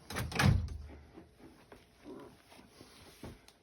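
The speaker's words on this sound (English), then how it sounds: "close the door." A jukebox door closes with a single sharp thud near the start, followed by faint rattles and a quieter knock a few seconds later.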